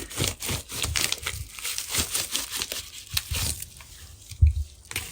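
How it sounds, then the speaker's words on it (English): Snack box packaging is cut open with scissors, producing a run of crinkling, crackling snips and rustles of cardboard and plastic wrap, close and fairly loud with irregular bursts and a thump near the end. "I think I have to use scissors."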